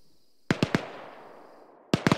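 Gunfire in Call of Duty: Cold War gameplay: a quick burst of three sharp shots, a fading reverberant tail, then another burst of three loud reports.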